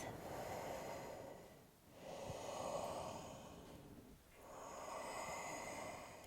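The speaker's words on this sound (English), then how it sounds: "Take just a few breaths." Slow, steady yoga breathing during a power yoga class, with three long, close breaths in a row, each rising and easing off with short pauses between, and no talking.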